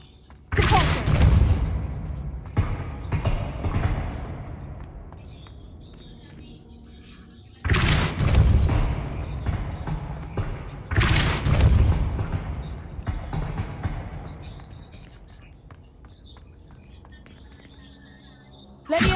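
Depulso spell cast repeatedly in Hogwarts Legacy, loud bursts of magical force with rumbling impacts, several strong blasts separated by quieter gaps, with a voice speaking over parts.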